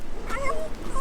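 A puppy whimpers and yips a few times at close range beside a road bridge over rapids on a Carolinas road trip, its thin high cries rising and falling over steady outdoor background noise.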